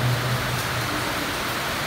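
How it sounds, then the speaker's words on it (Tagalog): Heavy rain pours steadily on a rainy day, a dense, even hiss with no breaks and a faint low hum underneath, moderately loud and with no voices. "maski malakas ang ulan"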